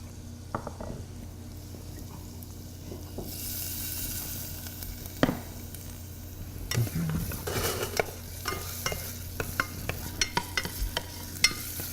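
Ginger and garlic gently sweating in a pan, a low even sizzle that swells partway through, with quiet stirring and a run of small spatula clicks and taps toward the end.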